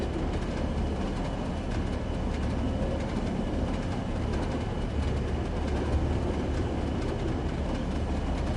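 A heavy freight train rolls downhill in Train Sim World 2, a steady loud rumble of wheels and wagons with faint rhythmic clacks, unbroken throughout and with no talk.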